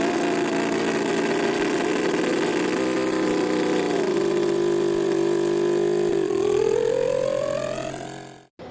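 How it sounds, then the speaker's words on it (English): A rose engine, a hobbyist's ornamental turning machine, runs with a continuous loud motor hum whose pitch dips and then rises steadily before cutting off abruptly at the end. "this is a machine called a Rose engine"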